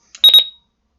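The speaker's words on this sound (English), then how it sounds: "I'm not a fan of the high-pitched button beeps over here" A Radioshack 12-250 weather radio gives a short, high-pitched button beep, a close, sharp electronic chirp in a few quick pulses that ends abruptly, with silence before and after.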